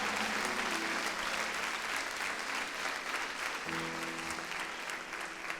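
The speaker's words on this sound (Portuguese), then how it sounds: "Quantos podem aplaudir ao Senhor?" A church congregation claps for the Lord in sustained, dense applause, a steady even roar of many hands filling the room, with faint tones of instruments or voices underneath.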